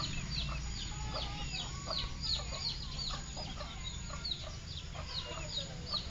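A flock of chickens, including frizzle chickens and small chicks, clucks and peeps in quick, scattered calls over a low steady background hum, with no one speaking.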